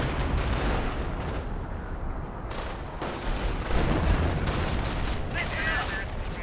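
An artillery barrage in a strategy video game fires on a sniper, producing rolling booms and crackling gunfire with layered explosions throughout, loud and dense.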